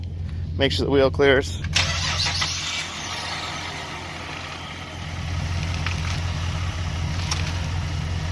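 A Cadillac CTS being repaired after a guard rail wreck cranks and fires up, with a brief squeal, then settles into a steady, close idle. A voice speaks briefly near the start.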